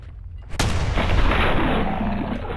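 A shotgun blast in Fallout 4 aimed at feral ghouls: one sudden, loud, close shot after a short quiet start, followed by a long rumbling tail that slowly fades.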